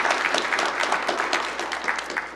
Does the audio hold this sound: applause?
yes